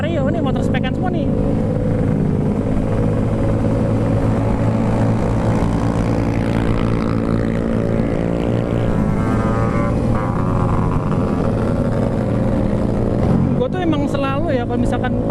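Modified Honda Vario scooters riding on the road at night, a continuous droning engine rumble with a brief rising rev near the end, heard under steady talking.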